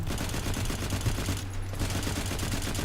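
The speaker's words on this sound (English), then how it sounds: "machine gun thingy here, I must admit, is very weak sauce" Rapid, continuous machine-gun fire in the online shooter game Firefall, a dense rattling stream of shots with a brief dip midway, loud and up front with no talking.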